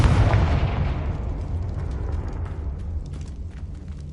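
A Confringo blasting spell detonates in a Harry Potter video game, a loud booming burst that hits at once and rumbles away over about four seconds, with no voices.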